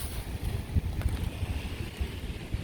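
Strong wind gusts roar and buffet during heavy rain in downtown Brooklyn, a continuous rumbling rush with low thumping bursts on the microphone.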